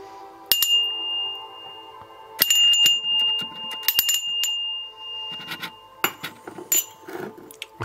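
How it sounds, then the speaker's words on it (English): A bright bell rings three separate times, each strike sharp and close and left to ring on, with some rustling and handling noise between the strikes and no talking. "I'm going to ring this bell 3 times"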